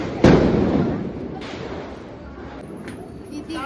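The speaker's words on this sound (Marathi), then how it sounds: "आता आपण फटाके फोडूयात." Diwali firecrackers bursting outdoors during a family celebration: one loud, close bang followed by a long crackling rumble that fades, then a fainter second pop and distant crackles.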